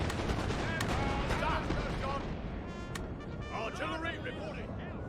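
Cannon and artillery fire in the Napoleon: Total War video game, with loud booming shots and dense battle noise filling the whole clip, plus brief voice calls heard over the din.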